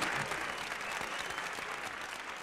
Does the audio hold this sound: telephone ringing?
no